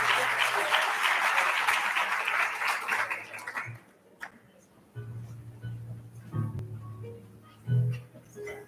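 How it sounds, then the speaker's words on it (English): Audience applause at a medical school graduate medical education graduation ceremony, a dense broad clapping wash for the first few seconds that fades out, followed by a voice speaking over a quieter room. "So give her another round of applause for that aspect,"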